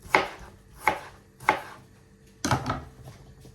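A knife chops apples on a cutting board in four distinct strokes, three evenly spaced and a final heavier one, close and clear with quiet between.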